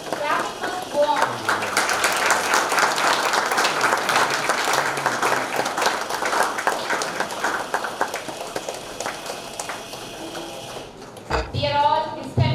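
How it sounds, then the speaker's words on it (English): A crowd claps steadily at a STEM club opening event, dense and sustained applause that thins out near the end before a voice speaks over the last moments. "Clapping must go on."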